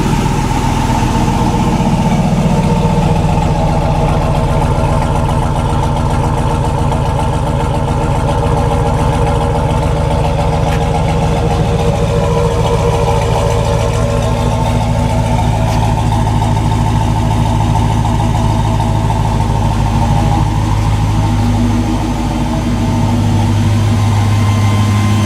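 A 1995 Chevy Cheyenne pickup with a swapped 5.3 LS V8 idles steadily through its exhaust with a mild lope, a loud, close, continuous low rumble with no talking.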